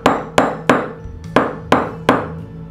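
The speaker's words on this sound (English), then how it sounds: "you can hammer it right on there if you don't mind the tool marks from the hammer and the anvil surface" A hammer strikes a jewelry chain link on an anvil to flatten and harden it, giving six sharp metallic blows in an uneven rhythm, each ringing briefly before the next, close and clear with no talk.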